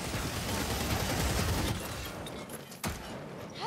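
A ratling gunner firing in Warhammer Vermintide, a steady rattling stream of rapid shots that continues for a few seconds, then cuts off into quieter game ambience with a sharp final crack.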